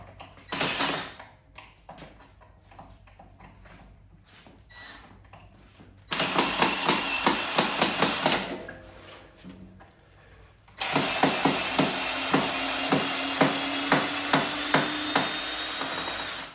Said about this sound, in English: I'm going to remove the screws on the rest of the battery here